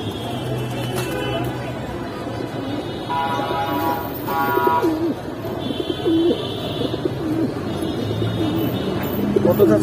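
Pigeons coo steadily at a busy pigeon market in Kaptan Bazar, Dhaka, with repeated throaty coos and voices chattering over the continuous crowd noise.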